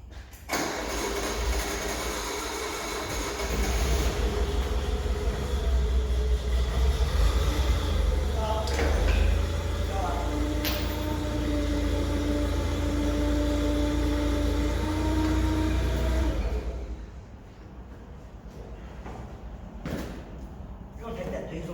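A PC 50 mini excavator's boom ram being lowered, its hydraulic whine and low diesel engine rumble running steadily for about sixteen seconds before easing off, with people talking nearby.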